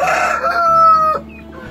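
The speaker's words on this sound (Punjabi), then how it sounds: "ਬਾਂਗਾਂ ਦੇਈ ਜਾਣੀ, ਹੁਣ ਇਹ ਦਊਗਾ।" A farm rooster crows once, loud and close, a single drawn-out call lasting about a second before tailing off into quiet clucking.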